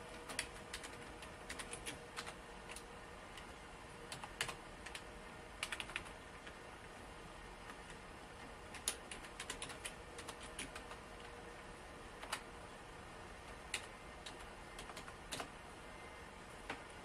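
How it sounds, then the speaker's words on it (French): Scattered, crisp keystrokes on a computer keyboard as a username and password are entered while installing Linux Mint on a PC, in irregular close clicks over a steady quiet background hiss, with no talk. "Je vais le taper."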